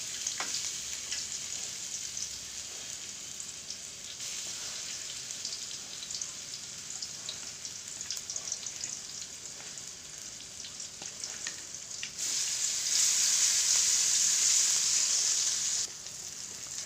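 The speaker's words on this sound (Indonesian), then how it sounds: "bumbu saya tumis ya." Spice paste frying in a pan as an Indonesian home cook sautés it, giving a continuous close crackling sizzle that swells louder for a few seconds near the end, with no talking.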